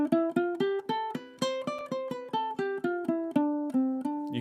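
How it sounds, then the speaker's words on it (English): A D Dorian scale is picked on a ukulele: about sixteen clear plucked notes at an even, unhurried pace, each ringing briefly, played close and alone. "When you play a D Dorian scale, it creates a unique sound."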